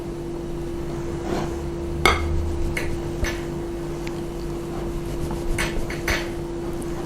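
A shot of liqueur being stirred into a tiramisu cream mixture, heard as irregular clinks and scrapes of a utensil against a bowl over a steady low hum, with no talking.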